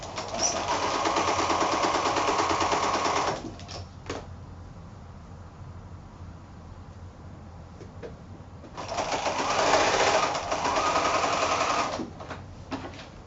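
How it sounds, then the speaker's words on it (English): A sewing machine stitching 5-inch quilt squares into pairs for a bow tie block, two steady close runs of rapid buzzing stitching separated by a quiet pause with light handling noises. "So now we just need to sew those 2 together into pairs."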